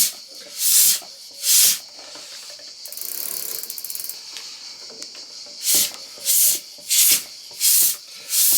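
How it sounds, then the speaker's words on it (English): A bicycle track pump with a nozzle attachment blows air out in a series of loud, breathy whooshes, each about half a second, with a softer rattling stretch in the middle, close up with no talking. "I've got to make sure I pull this back and then you can blow the air out."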